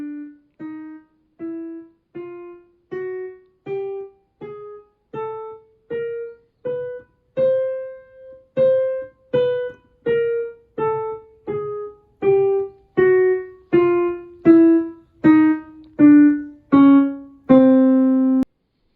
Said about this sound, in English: Chromatic scale sounds like this.